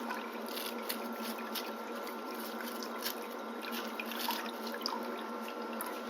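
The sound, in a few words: toothbrush rinsed under running tap water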